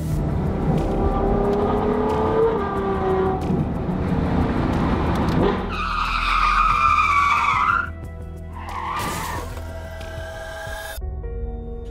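A Ferrari's tires screech in a long, loud skid over roaring engine noise, then the car crashes, followed by a second brief screech and a sudden cut to quiet.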